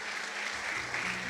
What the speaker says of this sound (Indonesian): Kita berikan tepuk tangan dulu buat mereka.